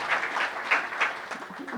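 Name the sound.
audience applause for Sherry Christensen of Sweet Tooth Bakery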